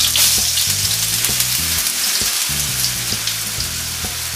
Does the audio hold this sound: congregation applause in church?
no